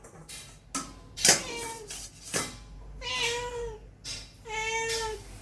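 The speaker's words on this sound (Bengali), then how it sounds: "এবার এটা তো ম্যাও ম্যাও করছে" A cat meows repeatedly at close range, several drawn-out cries with short sharp noises between them.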